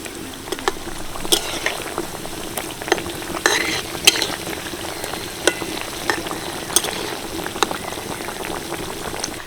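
Puffed rice chops deep frying in hot oil over medium heat, a loud continuous bubbling sizzle with scattered sharp pops and crackles, close and steady throughout with no voices.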